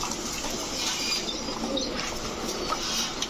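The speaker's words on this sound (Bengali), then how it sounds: "এরপরে আছে হচ্ছে ইন্ডিয়ান লোটন একটা মাদি কবুতর" Pigeons, including a white female and an Indian Lotan female, coo softly in a coop, faint low murmuring calls continuing under a quiet background hiss.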